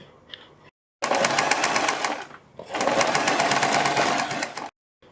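A sewing machine stitches along the edge of a high neck collar in two loud, fast whirring bursts separated by short silences.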